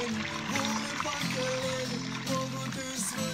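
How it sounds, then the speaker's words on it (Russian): A stream in the Iremel mountains flows steadily while a marble-like pebble is rinsed in it. The pouring, trickling water stays close and continuous, with faint tonal sounds layered over it. "Сейчас будем мыть камешек."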